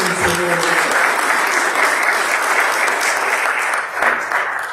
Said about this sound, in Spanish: Puedes dar un aplauso a Jesús.